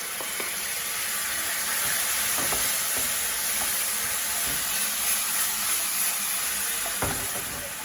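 Prepared chili and garlic mixture sizzling steadily in a hot pan while cooking clams, a dense continuous hiss with occasional soft stirring scrapes.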